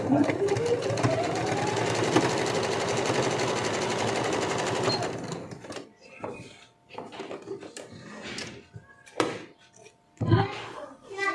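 A sewing machine stitches lace onto the slit of a fabric daman, running loud and steady for about five seconds, then giving way to quieter handling clicks and rustles.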